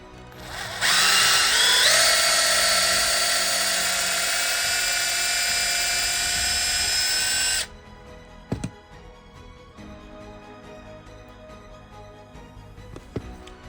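A small electric drill bores a hole in a plastic HO-scale model traffic light, a steady high whine for several seconds that stops abruptly, followed by faint clicks of handling.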